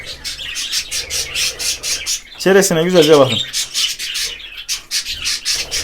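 A budgerigar chirps rapidly and lets out a brief harsh squawk midway, close and loud, while a person speaks over the birdsong.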